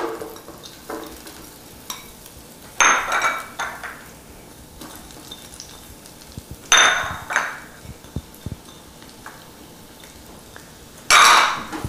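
Onions, peppers and garlic go into hot olive oil in a sauté pan, giving a soft background sizzle broken by three sharp bursts of clattering and stirring against the pan, with lighter scrapes between.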